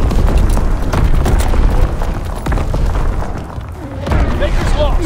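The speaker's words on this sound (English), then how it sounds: "Incoming enemy artillery." Incoming enemy artillery in the video game Call of Duty WWII, heard as dense booming explosions and rumbling impacts. The blasts are loud and continuous, with game voices calling out over the barrage.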